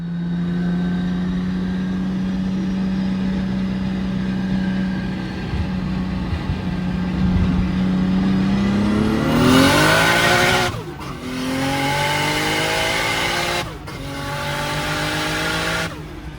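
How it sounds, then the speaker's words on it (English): A Nissan S13 with a swapped Toyota 2JZ engine running 20 PSI of boost drones steadily, then pulls hard with a loud rising engine note broken by two brief gear-shift dips, heard close up. "the test is gonna go for a drive and see if it makes at least 74, 75 PSI, at 20 PSI of boost"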